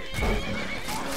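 A horse in the video game Skyrim lets out a loud, close, shrill whinny lasting about a second, with faint hoof clatter underneath and no voices.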